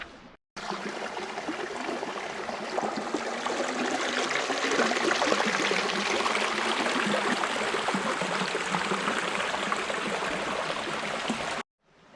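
A canyon stream runs gently downhill in winter, a steady, close, continuous rush and trickle of water that holds evenly throughout with no talk over it.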